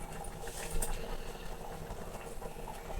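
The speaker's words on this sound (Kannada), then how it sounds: "ನೋಡಿರಿ ಹೆಂಗೆ ಕುದಿಯಾಕತ್ತೈತಿ" Green pea curry (batani palya) boils in a pot with a continuous low bubbling and gurgling, moderately close and fairly quiet, with a slightly stronger swell near the one-second mark.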